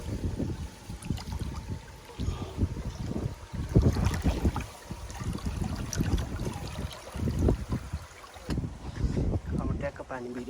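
Water fills and runs on a vegetable farm with a continuous, rough rushing and splashing that surges and eases in waves, close to the microphone.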